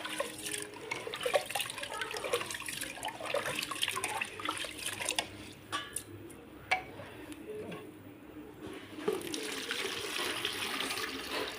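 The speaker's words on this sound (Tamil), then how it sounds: "அரிசி நல்லா கழுவிட்டேன்." Raw rice being washed in water for Chettinad-style sweet pongal, with swishing, trickling water and handling sounds close by, steady and fairly quiet with brief pauses.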